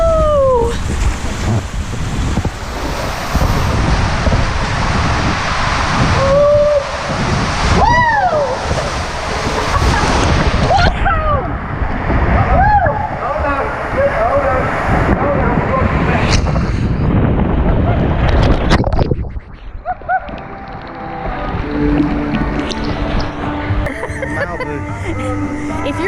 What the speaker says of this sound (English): It is a super fun tube ride.